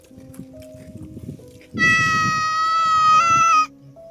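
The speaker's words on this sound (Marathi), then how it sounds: "कशाचा आवाज येतो रे? अरे मांजर आहे वाटतं" A cat lets out a single loud, drawn-out meow lasting about two seconds, close by. It rises out of faint, low background rustling and then cuts off abruptly.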